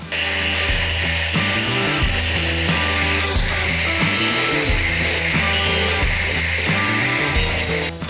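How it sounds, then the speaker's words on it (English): An angle grinder grinds off the protruding screw tips on backer board for a suspended shower soffit, a loud, continuous whirring grind that holds steady throughout. "I got the grinder on standby, ready to go. I'm gonna hit them."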